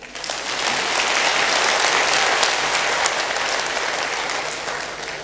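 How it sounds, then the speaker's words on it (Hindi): An audience in a Hindi-language talk hall claps in a dense, sustained burst of applause that holds steady for several seconds before easing slightly. "ताली नहीं बजाएंगे?"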